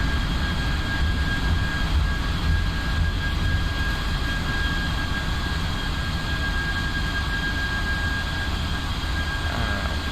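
Reverse thrust roars from a Boeing 747-400F cargo jet landing in a flight simulator game, a loud, steady, continuous engine rush with a thin high whine running throughout, no voices.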